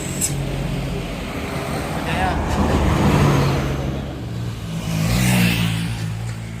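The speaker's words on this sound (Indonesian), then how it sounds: "akhirnya bis kita datang juga" An intercity bus on the Bima to Mataram route pulls in at night among road traffic, its engine rumbling and swelling as it nears, with people talking and a bright hiss of brakes or air.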